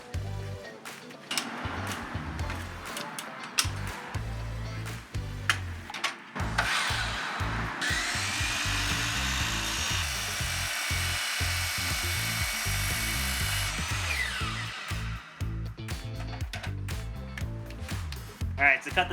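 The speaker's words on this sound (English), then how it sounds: "I'm just gonna just use my power tools" Power tools whining and buzzing as they cut wood for a wooden monitor build, with a long sustained cutting pass and choppy bursts of tool noise mixed among bumps and handling sounds.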